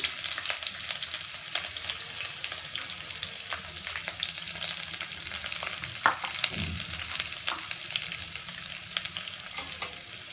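Ginger and garlic frying in a pan, a steady bright sizzle running throughout with occasional stirring scrapes and a clunk near the middle, no voices.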